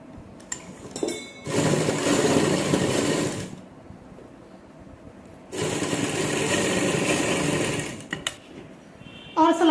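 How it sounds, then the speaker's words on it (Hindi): Sewing machine stitching the shoulder seam of a frock runs in two sustained loud bursts separated by a quiet pause, with light clinks and handling clatter at the start and end. "इसी तरह से हम दूसरे कंधे की सिलाई को अटैच कर लेंगे।"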